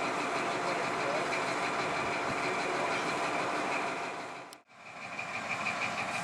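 A steady, loud engine drone from the leading power car of an XPT train, idling continuously before dropping briefly to near silence and then resuming.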